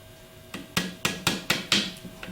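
A hammer taps a brush pin to drive a plastic shaft out of a Valeo alternator being rebuilt, with about six sharp metallic knocks at an even rhythm, close and fairly quiet, with no talk.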